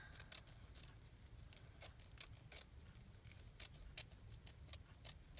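Scissors snip through ribbon from a wedding craft section, giving a quiet series of short, crisp cuts and small rustles at close range.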